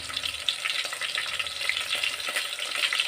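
Onions frying in hot oil for a green chilli chicken gravy, a steady dense hiss and crackle of sizzling that fills the whole stretch with no talk.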